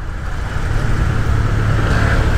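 Steady road traffic on a sharp curve by a lakeside resort, a continuous near engine drone from cars and motorbikes waiting and moving slowly, growing slightly louder.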